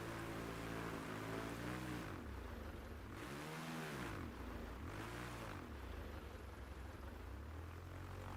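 A Su-26MX aerobatic plane's piston engine in Microsoft Flight Simulator, heard from outside, throttles up and down in repeated swells. The propeller drone rises and falls several times at a faint, steady distance, with no voices.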